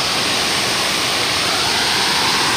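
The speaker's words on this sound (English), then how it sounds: "Do you like the water fountain?" Steady, loud splashing of a water fountain outdoors, a dense broadband wash of falling water that continues without a break throughout.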